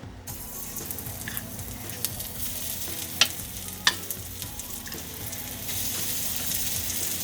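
Seasoned-flour-dredged pork cutlets fry in avocado oil in a pan, a low, even sizzle with a few sharp clicks and clatters of handling and a slight rise in hiss near the end.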